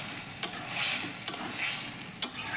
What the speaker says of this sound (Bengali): এখন আমি ভাজা স্কোয়াশগুলো এটার মধ্যে দিয়ে